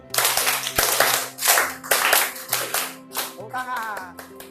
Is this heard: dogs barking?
no